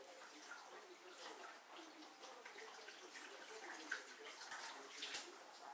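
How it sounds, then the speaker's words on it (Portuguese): Containers being washed with a sponge under a running kitchen tap, a steady close hiss of flowing water with light splashes and a few soft knocks. "Lave com bastante água corrente"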